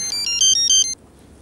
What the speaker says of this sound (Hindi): फ़ोन बज रहा है आपका